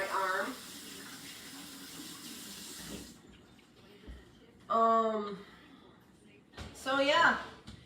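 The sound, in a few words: water running from a tap while washing up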